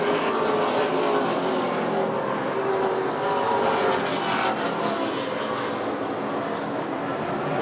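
Late model stock cars race side by side in the Coastal 200, a steady, loud, continuous engine roar from several cars running together on the track throughout, with no pauses.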